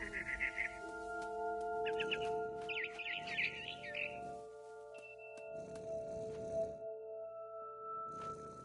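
A barn swallow in a video game gives a few quick, bright chirp bursts early on over steady, soft game music, then the music carries on alone.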